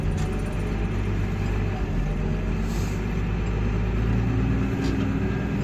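A farm vehicle drives across a field to press better tracks into it, giving a steady, close engine rumble that holds even throughout with no voices.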